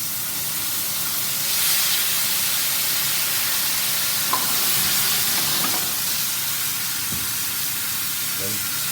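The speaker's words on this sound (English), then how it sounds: "Now we're going to make a flame. So first to go in the pan is the hazelnut liqueur." Hazelnut liqueur flambéed in a hot pan makes a steady, loud rushing hiss with a soft whoosh of flame and a few faint clicks throughout.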